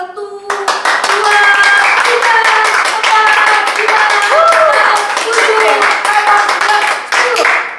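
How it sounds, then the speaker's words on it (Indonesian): Children clapping together in a church service, a fast, steady run of loud, dense hand claps, with voices counting and shouting along throughout. "Coba tepuk tangan buat Tuhan Yesus sampai hitungan 10"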